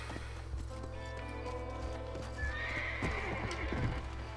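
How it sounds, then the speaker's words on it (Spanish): A horse at a hitching post in the Red Dead Redemption video game snorts and whinnies, its hooves clip-clopping a few times over steady background ambience. "Ahí está el caballo al poste."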